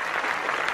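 Short burst of applause celebrating a win in a Skibidi Toilet dance segment, a brief, steady wash of clapping with no voices.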